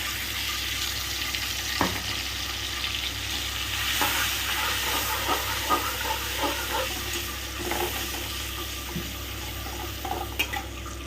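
A spice and yogurt paste with ginger fries in a pan for cauliflower rezala, giving a soft steady sizzle broken by occasional scraping stirs and light clatters, close by and without speech.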